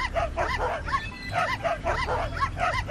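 Dogs in a Czech video game bark in a rapid, repeated rhythm, several yips and bow-wows close and loud, with a faint voice underneath.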